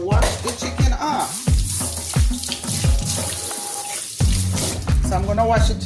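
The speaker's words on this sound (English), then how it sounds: "Now guys, I'm gonna wash the chicken off." Tap water runs into a kitchen sink while raw chicken is washed, a loud close splashing stream broken by repeated handling thuds and gurgles, with a brief pause in flow before it resumes; no talk.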